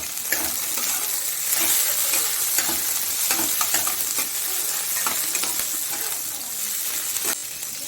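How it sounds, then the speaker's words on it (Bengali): Steady loud sizzling of garlic, onion and chopped green chilies frying in oil, with scattered clinks and scrapes of a spoon stirring the pan throughout. "রসুন, পেঁয়াজ আর কাঁচা লঙ্কাটা ভাজা হয়ে গেছে।"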